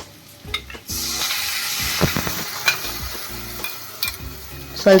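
Paneer biryani masala with curd frying in a pan on low flame makes a loud continuous sizzle, broken by repeated rhythmic scraping strokes of a spatula against the pan.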